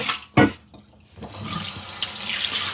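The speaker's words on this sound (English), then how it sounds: "I'm going to rinse this" A stainless steel bowl is rinsed under a running kitchen tap, with a sharp clunk early on, a short pause, then a steady splashing rush of water.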